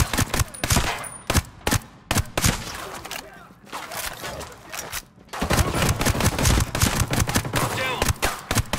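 Gunfire in Ghost Recon Breakpoint: loud, sharp shots and rapid volleys crackle in irregular bursts, then a denser sustained barrage over continuous battle noise. Shouting voices can be heard amid the shooting.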